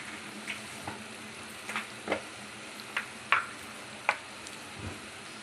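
Paneer bhurji with masala frying in oil while being stirred, giving a steady soft sizzle broken by several light scraping and tapping strokes of a spoon in the pan.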